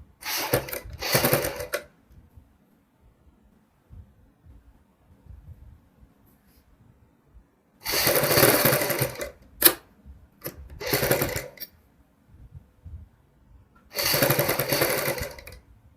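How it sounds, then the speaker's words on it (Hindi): A sewing machine stitching the neckline of a kurti, running in loud close bursts of rapid needle chatter separated by quiet pauses, with soft handling noises between runs and no speech. "यहाँ पे सिलाई लगा लेनी है"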